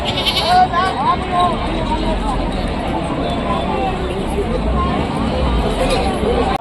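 Goats bleat repeatedly amid the busy chatter and hubbub of a crowded sheep and goat market in Rajarampalli.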